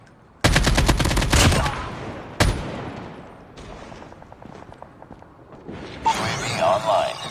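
Call of Duty Mobile gunfire: a loud burst of rapid automatic shots, then a single sharp shot, followed by scattered quieter firing and game effects, with a voice calling out in between.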